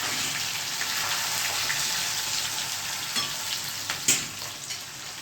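Onion and garlic fry in hot oil with cumin, mustard seeds and asafoetida, giving a continuous close sizzle with a few sharp pops and utensil taps near the end.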